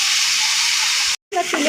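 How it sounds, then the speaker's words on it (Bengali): Rui fish frying in hot oil in a kadai gives a steady, loud sizzle that cuts out briefly, then returns with faint clinks and stirring. "আমাদের রুই মাছ ভাজা"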